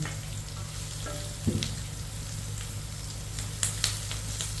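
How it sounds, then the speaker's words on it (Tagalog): Onion and garlic sautéing in a pan for a bitter gourd and shrimp paste lunch dish, giving a steady close sizzle and fry with a few brief stirring clatters partway through. "gisa-gisa tayo ng ating sibuyas. Lagay naman natin ang bawang"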